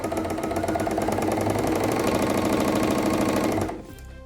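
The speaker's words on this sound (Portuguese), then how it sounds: "através dessa alavanca, eu consigo controlar a velocidade da máquina" A Pfaff Creative Ambition 640 sewing machine runs at a fast, steady speed, its rapid rhythmic needle clatter and motor hum close and even, then stopping abruptly near the end.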